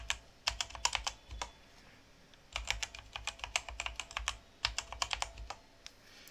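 Password typed on a computer keyboard in quick bursts of crisp key clicks separated by short pauses, close and faint, with no talking.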